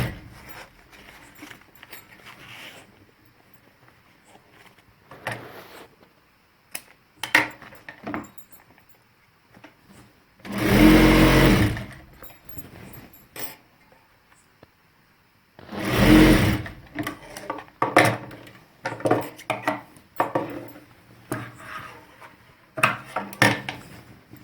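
A sewing machine stitches salwar pieces in two loud, sustained bursts of a few seconds each, separated by quieter handling clatter of fabric and tools, with no talking.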